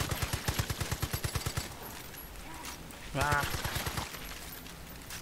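An MP40 submachine gun fires in Far Cry 5 Arcade, a quick, evenly paced burst of about a dozen close shots, then a brief pause and a shorter rattling burst, with a short voiced exclamation.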